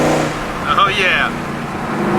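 Mercedes C63 downshifting, a short rising engine rev blip with exhaust burble, close and loud, with a voice heard over it.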